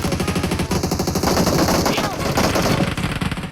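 Rapid automatic gunfire in PUBG Mobile, loud close bursts of shots rattling continuously over a few seconds.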